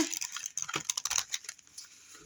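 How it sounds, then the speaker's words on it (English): Crisp, rapid flicking and riffling of stiff gilded oracle cards shuffled close by, a dense burst of papery clicks that thins out toward the end. "Let's give it a shuffle."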